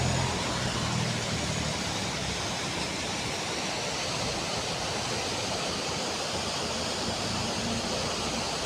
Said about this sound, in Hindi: नीचे पूरे ये चट्टानों से टकरा कर गिर रहे हैं।